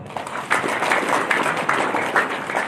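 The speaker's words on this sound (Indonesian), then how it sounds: "Silakan tepuk tangan untuk semua karyawan." Factory employees applaud together at a large indoor religious gathering held in the plant, a dense, steady patter of many hands clapping at moderate loudness with no talk over it.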